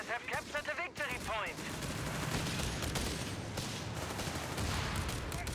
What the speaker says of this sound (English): rifle grenade misses